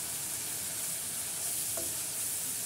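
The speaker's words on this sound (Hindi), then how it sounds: "अब ये दही को हम अच्छी तरह भून लेंगे" Yogurt frying in a pan for mutton kidney masala, giving a constant soft, even hiss with a faint stirring scrape partway through.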